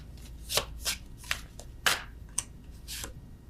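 A deck of oracle cards is shuffled close up, about six quick riffling swishes in an uneven rhythm, soft and alone in a quiet room.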